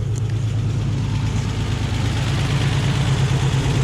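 A vehicle engine running steadily after being started with the key, a loud, close, low rumbling idle with an even pulse throughout and no speech.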